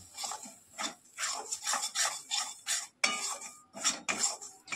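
Roasted Gobindobhog rice powder stirred into homemade fishing bait, giving rhythmic, close scraping and clattering strokes in bursts of about half a second, with brief pauses between.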